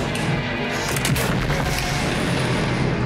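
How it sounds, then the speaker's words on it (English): A video game explosion sounds as a dull, booming burst with a few sharp cracks near the start, then a loud rumbling wash that continues steadily to the end. "Explosion!"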